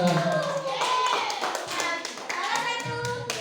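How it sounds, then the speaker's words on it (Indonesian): A class of children claps hands in a quick, uneven patter of sharp slaps, mixed with voices talking nearby in a classroom. "Ya, tepuk tangan."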